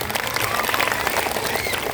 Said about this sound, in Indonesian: Tepuk tangan dulu sama grup haksi kita.